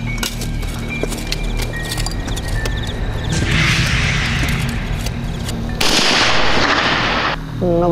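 Gunfire and blasts at a military training exercise, a steady rattle of sharp shots over a dense rumbling background with louder bursts of explosion noise, close and continuous with no talk.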